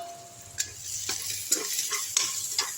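Karonda being sautéed in oil for pickle, a steady soft sizzle with a few sharp stirring scrapes against the pan, no voices.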